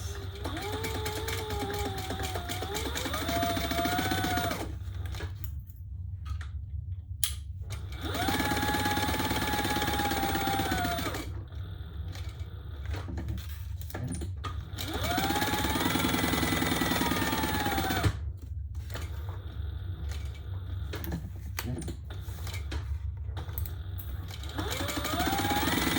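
A sewing machine stitches a seam allowance on a leather tote bag lining, running in three long bursts with quiet pauses between them and a steady mechanical whir over a low background hum.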